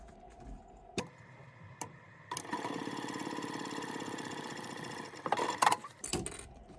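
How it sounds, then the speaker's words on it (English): A sewing machine top-stitches along a fabric seam for a clutch bag, with the presser foot running along the fold. Close, steady mechanical whirring runs for several seconds between short clicks at the start and end. "Just gonna top stitch along this seam, just riding my presser foot right along the fold"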